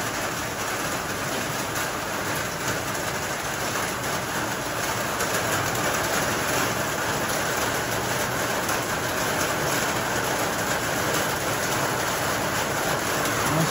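Very heavy rain, hard enough to stop outdoor work, pours down as a loud, dense, unbroken hiss that holds steady throughout with no voices.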